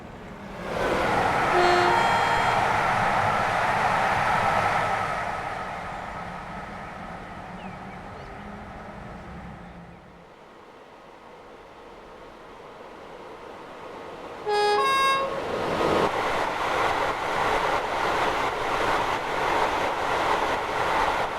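A Class 86 electric locomotive in Train Simulator, with sounds taken from preserved 86259 Les Ross, hums and rumbles steadily, easing to a quieter stretch before surging back, with short horn-like tones sounding twice.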